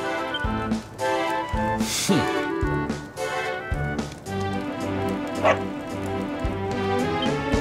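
A dog barking repeatedly in the Dragon Quest XI video game, a steady run of loud yips and barks over background game music.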